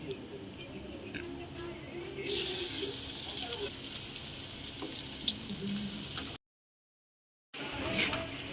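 Whole green chillies dropped into hot oil after pumpkin and onion pakoras, a hissing sizzle that swells partway through with crackling pops, then cuts out briefly before resuming.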